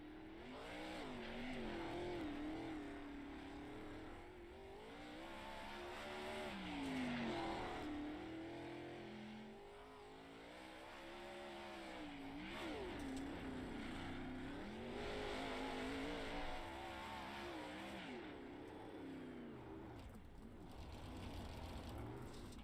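A high-horsepower race car engine drones and revs on an oval track before qualifying, rising and falling in long sweeps as it laps, moderately distant and continuous, with faint commentary voices underneath.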